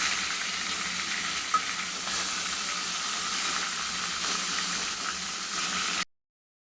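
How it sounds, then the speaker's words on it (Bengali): Chicken pieces fry on high heat, producing a steady, close, hissing sizzle with soft stirring scrapes, constant in level for about six seconds before cutting to silence. "জাল বাড়িয়ে দিয়ে এভাবে ভাজে নিতে হবে।"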